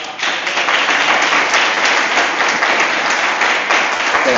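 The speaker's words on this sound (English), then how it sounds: "Let's give a round of applause." A college audience at a Black History Month lecture breaks into sustained, dense applause, loud and close, with many hands clapping evenly throughout and no pause.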